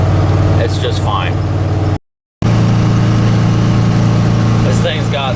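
A 1957 Chevy 210's engine drones steadily in third gear while climbing a hill at 3,500 RPM, loud and close, with a short drop-out midway and someone talking over it.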